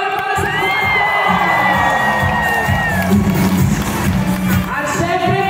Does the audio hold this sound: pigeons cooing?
no